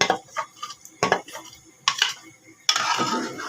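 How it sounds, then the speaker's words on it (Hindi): Metal pot scraped and knocked with a utensil in short, uneven bursts while cooking chicken nihari, clattery and close, with quiet pauses between strokes. "बर्तन को अच्छे तरीके से साफ कर दें।"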